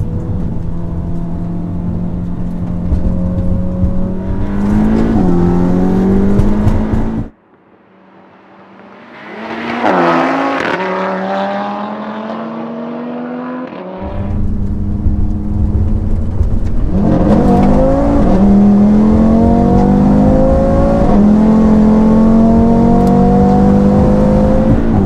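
Two Audi hatchbacks, a 510 bhp RS3 and a 475 bhp S3, drag racing: loud engines roar and rev through rising gear changes, then a short lull before both engines rev hard again and carry on at full throttle.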